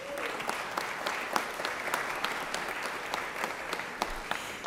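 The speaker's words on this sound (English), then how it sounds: "Can I give her a round of applause?" Steady applause fills the Georgia Senate chamber, a dense wash of many hands clapping together with a few sharper claps standing out, sustained evenly throughout.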